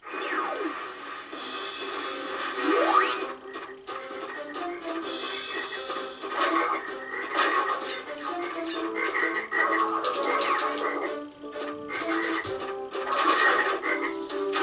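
A frog croaks in the PS1 platformer Crash Bandicoot 3: Warped, its repeated croaks set amid busy game music and effects without any speech.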